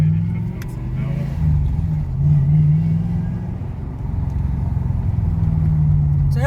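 A turbocharged 1UZ V8 in a Toyota Soarer pulls hard up a motorway on-ramp, a loud, close engine drone that swells and steadies as it accelerates inside the cabin, with no talk.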